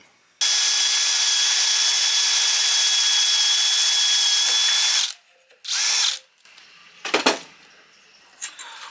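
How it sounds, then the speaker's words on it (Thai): A power drill whines steadily for several seconds while boring a 6 mm hole through a metal pipe for a 2-inch valve handle, then stops, followed by a short second burst and some clattering handling noises. "ผมเจาะรูขนาด 6มิลิเมตร สองฝั่งนะครับ"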